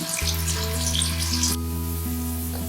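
Onion and chopped garlic fry in hot oil with a loud, steady sizzle close by. A constant hum runs underneath, and the crackle thins out partway through.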